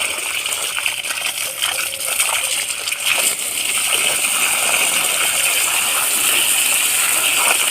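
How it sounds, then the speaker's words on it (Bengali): Running water from a hose splashes and gushes steadily onto the soil around a lemon tree, a bright continuous spray heard up close. "এই গাছটায় এখন জল দিচ্ছি।"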